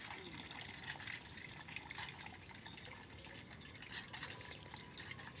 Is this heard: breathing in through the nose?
no